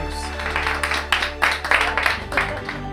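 Applause at an Italian family gathering in Brazil, a burst of scattered hand claps alone in the room, moderately loud with uneven rhythm and no voices over it.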